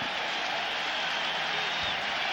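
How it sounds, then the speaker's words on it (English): An enthusiastic crowd at a 1995 Jaguars at Bengals football game at Riverfront Stadium, a broad, steady roar of cheering and applause from a distance, filling the stadium without pause. "Not sold out as it has been so much in the recent years here at Riverfront Stadium, but a very enthusiastic crowd"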